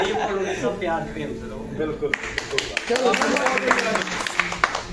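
Applause and clapping break out at a Hero MotoCorp farewell ceremony, a dense burst of many hands starting midway and continuing under a man's speech in Hindi.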